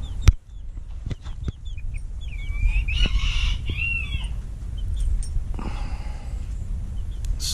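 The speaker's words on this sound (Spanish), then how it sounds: "Y un gallito negro, Old English Bantam también." Old English Bantam chickens, a blue hen and a black cockerel, cluck and call in short bursts at close range over a steady background hum, with a sharp knock near the start.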